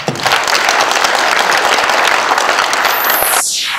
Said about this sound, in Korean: 박수갈채로 보내드리겠습니다